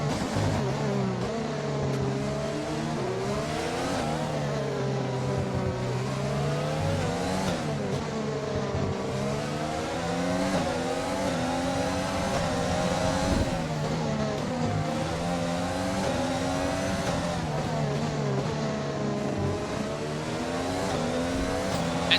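Race cars in an Abu Dhabi racing video game, with several engines droning loud and steady in close pursuit on the straight, their pitch rising and falling as they jostle to overtake, and no talk over it.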